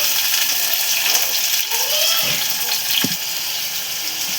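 Onion and tomato with curry leaves cook in a pan, producing a steady close sizzle and bubbling with a few spoon scrapes and clacks.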